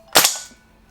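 A single sharp, close crack from an Umarex HK G3A3 gas blowback airsoft rifle, with a fast attack and a short metallic decay, and no voices.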